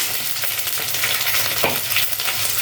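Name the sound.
stirring green chilies and shallots in a pan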